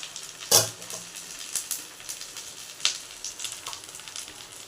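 Curry frying in a pan with green chillies added, heard as a sharp burst of sizzle followed by quieter, intermittent crackles close by.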